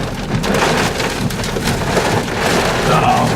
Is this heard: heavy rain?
yes